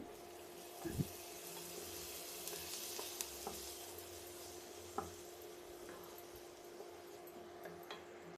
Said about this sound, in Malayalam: സവാള കരിവേപ്പില ഇത്രയെല്ലാം അരിഞ്ഞത് ചേർത്ത് ഉപ്പിട്ട് നല്ലോണം ഒന്ന് ഇളക്കി